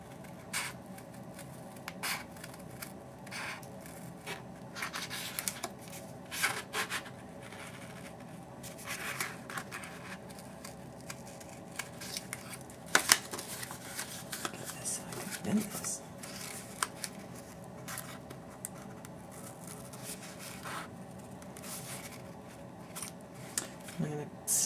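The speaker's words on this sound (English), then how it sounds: "And then cut along the line." Scissors snipping paper along a folded line for a butterfly May basket, a quiet close run of small clipped cuts and paper rustles in an uneven rhythm, with soft talk at times.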